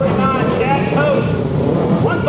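Twin-engine motorcycles roar together at the start of a Pro Expert Twins flat track heat race at the Barbara Fritchie Classic, a dense sustained engine drone with a public-address announcer talking over it.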